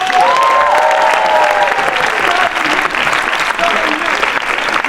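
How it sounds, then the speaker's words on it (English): A loud, dense crowd applauds at a 25th anniversary celebration, sustained clapping mixed with whoops and raised voices throughout, filling the room at close range. "Give them a massive round of applause."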